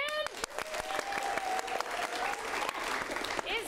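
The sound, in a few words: audience applause for a director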